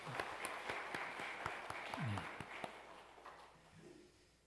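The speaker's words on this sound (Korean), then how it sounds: "하나님께 영광의 박수 한번 돌려드리겠습니다" Congregation clapping during a Sunday worship service in a church, a burst of applause with some voices and singing mixed in, fading toward the end.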